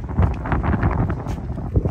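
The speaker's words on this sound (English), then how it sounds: "It's going to be a little windy." Wind buffets the microphone in a steady low rumble with gusty bursts, loud and close throughout, no talking.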